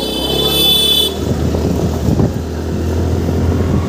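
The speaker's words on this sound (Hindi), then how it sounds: "दीपू भाई ने निकाली अपनी स्कूटी, अबे यार चल चल जल्दी चला तो इधर से, हॉर्न मार हॉर्न मार" A scooter rides fast along a village road, its engine droning loudly and steadily throughout, with a horn tooting briefly near the start.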